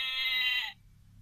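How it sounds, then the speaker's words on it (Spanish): A single electronic bleat from a toy sheep in a musical box, bright and buzzy, holding steady for about half a second before cutting off abruptly into quiet. "Oveja. Una oveja que en realidad parece un perro."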